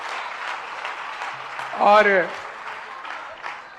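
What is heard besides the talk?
audience applause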